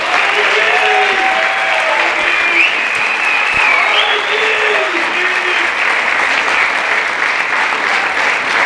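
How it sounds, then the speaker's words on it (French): A crowd applauding steadily and loudly for several seconds, dense continuous clapping that fills the space, with faint voices mixed in. "on peut les applaudir"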